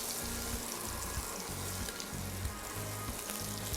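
Chopped green garlic sautéing in a pan gives a steady, close sizzle and crackle of frying oil, continuous throughout with low thumps of movement beneath and no talking.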